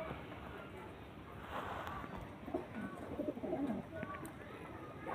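Pigeons kept in a home loft, some nesting with eggs and chicks, coo softly under a steady background hiss, while someone talks nearby.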